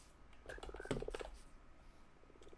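Several short Minecraft frog croaks in a quick run, close and clear, over a quiet low hum with no talking.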